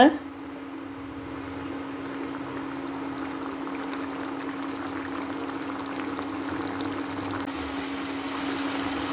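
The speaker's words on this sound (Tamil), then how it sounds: "குழம்பு கொதிக்குதுங்க" A steady bubbling and hissing simmer of country chicken curry in a pot on the stove, continuous and close throughout, with a low constant hum underneath.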